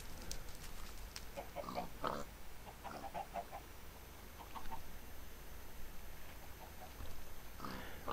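Repeated grunting oinks from a pig in a video game, with clucking chicken sounds mixed in, irregular and fairly faint over a steady background hiss.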